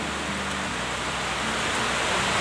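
Steady rain hisses evenly throughout, a continuous wash of noise with no voices.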